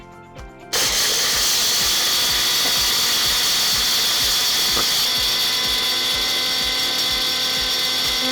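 A Wonderchef Nutri-blend mixer grinder starts with a sudden roar and runs at full speed for about eight seconds, rattling as it grinds hard spices such as cinnamon sticks and cardamom.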